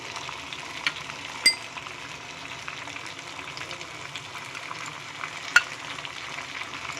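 Chicken pieces for a spicy red curry sauté in a pan, giving a soft steady sizzle with bubbling, under a couple of sharp metallic clinks from a spoon against the pan.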